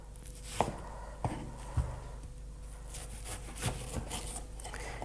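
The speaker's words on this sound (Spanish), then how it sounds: "Vamos a picarla un poquitín más fina." An onion being finely chopped with a knife on a board for a sofrito, sharp irregular taps spaced about a second apart over a steady background hum, close and fairly quiet.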